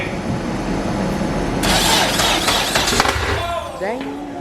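The K24 engine of a 10-second all-motor Honda Civic fires for the first time. A burst of loud cranking and mechanical clatter gives way to a rough, rising engine note close by, with people talking over it.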